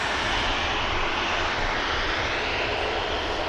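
A Turkish Airlines jet at Manchester Airport gives a steady, loud, dense engine roar that stays constant throughout, close by and without any voices.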